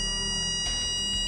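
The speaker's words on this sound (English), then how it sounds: "A bike actually went past, but then it beeped." Electronic warning beeps inside a 2018 Mercedes-Benz GLA200 as a bike passes, sharp tonal chirps repeating over a steady cabin hum.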